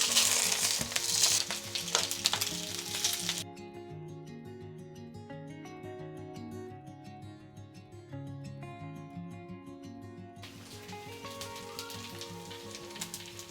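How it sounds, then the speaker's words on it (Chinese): Radish cake pan-fries in a generous amount of oil in a wok, a loud close sizzle that drops to a softer hiss midway under a melodic music bed, then swells again. "在锅里煎香2面，油可以多一点点，达到半煎炸的效果，外脆里嫩"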